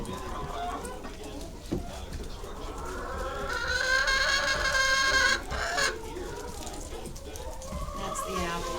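Several chickens cluck and squawk close by as they are fed apples, with a louder rising call in the middle, over a busy rustling background.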